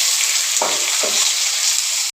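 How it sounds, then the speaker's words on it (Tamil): Sliced onions and tomatoes sauté loudly in hot oil in a pan for egg potato masala, a constant close sizzle with two brief stirring scrapes before the sound cuts off. "நல்லா தக்காளி வெங்காயம் வதங்கட்டும்."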